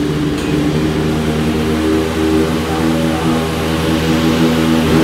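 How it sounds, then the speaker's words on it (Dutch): A WEC race car engine fires up and runs close by in the pits during the 2019 Fuji weekend. The low, steady, loud drone of the engine holds for several seconds with little change, and no one speaks over it. "Hiernaast wordt een auto gestart."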